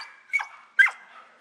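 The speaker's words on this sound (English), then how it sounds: "She's barking at Miracle" A dog in a garden lets out two short, sharp barks a fraction of a second apart, moderately close.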